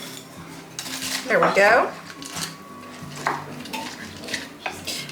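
Utensils scrape and clatter against a bowl while ingredients for a make-ahead holiday side dish are stirred together, with a brief burst of clinking near the middle and a person talking over it.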